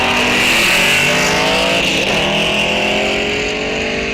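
Muscle cars roar off the line together at a drag strip, one of them an orange 1969 Camaro, their engines loud, close and sustained with rising revs over the whole stretch.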